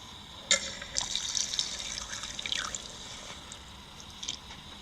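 Water from a PC water-cooling loop trickles and drips as some is let out of a CPU block. The faint, steady liquid trickle has a few sharper drips and plays alone without speech.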